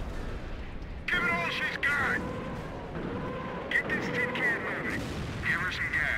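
Tank gunfire during a World War II video game battle of Operation Goodwood, with sharp cannon shots and crackling fire repeating at intervals beside engine rumble, while voices talk over the action.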